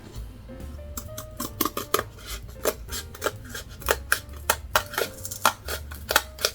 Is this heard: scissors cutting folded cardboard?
yes